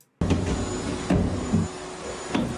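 A vacuum cleaner running loud and close with a steady whine, periodic thumps and bumps as it moves along the floor.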